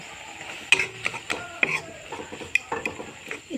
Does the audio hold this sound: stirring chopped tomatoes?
yes